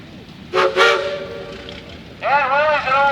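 A steam engine's whistle sounds at the Richfield Thresheree parade, its boiler holding 125 pounds of steam, giving two short blasts and then a longer wavering one. The blasts are loud, clear and close, over outdoor background noise.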